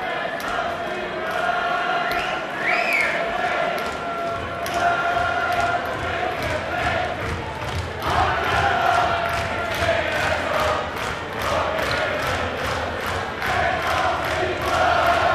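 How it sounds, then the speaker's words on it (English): Boxing fans fill the Newport Centre in Wales with a steady roar of crowd noise and cheering through a fight, heard continuously with voices mixed in throughout. "You can hear the Kennedy fans in the background there."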